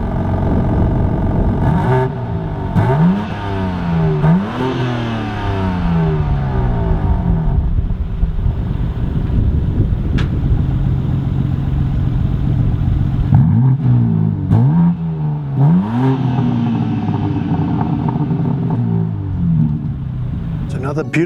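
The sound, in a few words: BMW M3 Competition G80 engine revving with exhaust valves open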